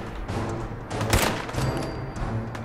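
Fallout 4 gunfire in a short, dense burst of fast loud shots, heavy and continuous, with no talking over it.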